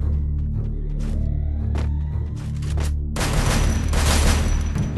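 Gunfire in a mobile shooter game: a low steady hum for the first few seconds, then a loud, dense burst of shots that keeps going to the end.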